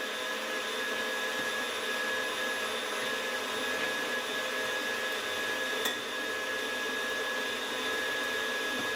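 An electric mixer mixes dry cookie ingredients, including sugar, salt, baking soda and baking powder, in a bowl with a steady, loud high-pitched whirring whine and no talk over it.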